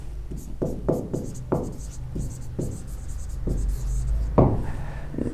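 Writing during an environmental engineering lesson on forms of chlorination: a series of close, distinct scratching strokes, roughly a dozen in uneven rhythm, over a steady low background hum.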